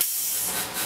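An air-driven tennis string tensioner gives off a short, steady hiss of escaping air, close and alone.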